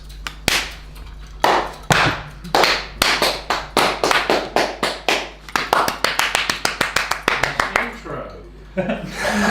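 A group claps in a steady rhythm, sharp claps repeating close together and quickening toward the end, with voices faintly underneath.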